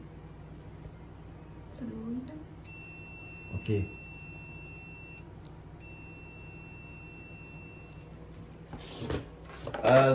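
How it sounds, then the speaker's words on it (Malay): A Fluke digital clamp meter set to continuity gives two steady electronic buzzer tones of a few seconds each, fairly quiet, with someone talking briefly before and after and some handling clicks. "kita nak test Fluke pula. Buzzer, kita setting dekat sini"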